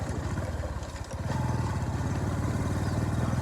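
A motorcycle ridden by a woman on a village road in Kenya passes close by, its engine settling into a steady, loud throbbing putter after a brief rev, with faint background noise.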